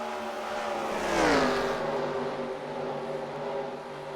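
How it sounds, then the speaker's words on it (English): Race cars in a video game at Charlotte, engines whining and revving as one sweeps past with a falling pitch over a steady roar of the field, fairly loud and without commentary. "we've got some crazy racing going on back here"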